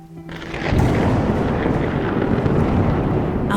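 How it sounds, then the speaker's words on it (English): A thunderstorm with a deep, rolling rumble of thunder that swells in after a brief moment and keeps roaring loud and near, layered with a heavy wash of rain and wind and no voices. "Rain poured over the village as thunder shook the sky."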